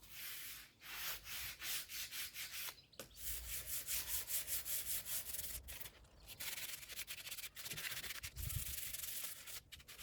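A wooden chair is being sanded before painting, with continuous rasping strokes in quick back-and-forth rhythm, close and steady, broken by a few brief pauses.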